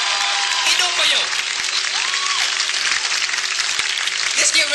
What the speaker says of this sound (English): let's give a round of applause for Jay Moore